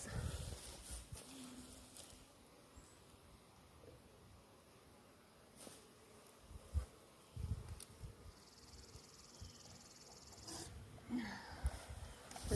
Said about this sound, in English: Now we're going to put the bees in the box.